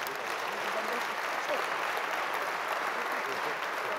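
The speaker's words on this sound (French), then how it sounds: "nous les applaudissions ensemble" Dense, steady applause from a large conference audience at an inaugural session, a continuous wash of many hands clapping at even loudness throughout.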